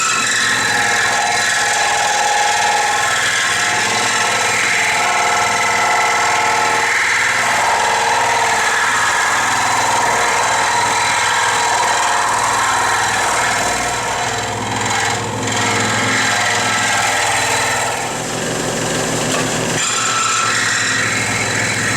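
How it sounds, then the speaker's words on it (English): A scroll saw cuts kydex sheet for a gun holster at a workbench, a loud, continuous buzzing rasp with a steady motor hum that holds for the full stretch with only slight dips. "we're going to go ahead to the scroll saw and make our cut"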